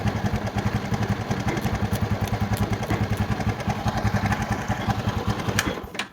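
A Honda Tiger Mega Pro motorcycle engine runs steadily with a fast, even thumping pulse, close up and loud throughout, ending with a sharper knock just before the sound cuts off.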